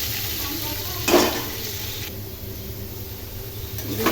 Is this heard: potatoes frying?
yes